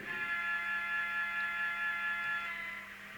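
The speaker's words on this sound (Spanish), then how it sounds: "Volvamos a escuchar el silbato." The whistle of the sound module in an Arnold model of the 1800 locomotive gives one sustained, steady, shrill electronic tone that fades at the end.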